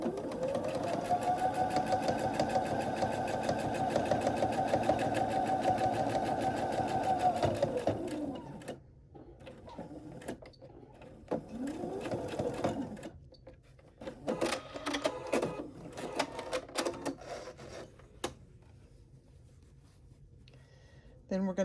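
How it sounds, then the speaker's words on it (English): A sewing machine runs steadily for about eight seconds stitching a quarter-inch seam along the top of a quilted baby block, then stops and gives a few shorter bursts of stitching amid handling clatter. "we are back at the sewing machine and we are going to stitch the top of our block using a 1/4 inch seam allowance on both sides"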